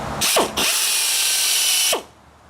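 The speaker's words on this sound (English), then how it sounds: "we got to do some drilling, and really hard drilling rubber" A power drill bores into hard rubber, its motor whining loudly and steadily for over a second after a brief start-stop burst, then spinning down to quiet.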